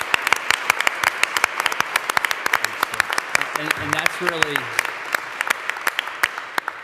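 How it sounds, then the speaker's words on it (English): Crisp applause from a small group at an AI safety discussion, many sharp claps rippling steadily while someone talks over it. "So I'd love for the group to give a round of applause for their conversations and contributions today."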